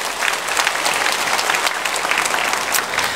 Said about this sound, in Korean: 오늘 처음 오신 세 가족으로 박수로 환영하겠습니다